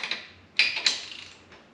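Torque wrench being tightened on a Polaris Ranger 900 XP engine part, giving a few quiet, close mechanical clicks and ratcheting ticks with no talk.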